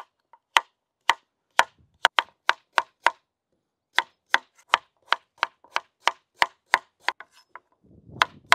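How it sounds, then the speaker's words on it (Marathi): A knife chops through pumpkin on a board in sharp, evenly spaced strokes, about twenty cuts with a brief pause midway, close and crisp. "आपण आता डांगर कटिंग करून घेऊ भाजीसाठी"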